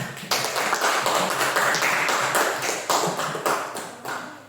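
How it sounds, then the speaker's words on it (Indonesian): Classroom students clapping for a pupil who answered a question, a close, loud spell of many hands with sharp individual claps standing out, then tapering off at the end. "Coba tepuk tangan untuk Fatir."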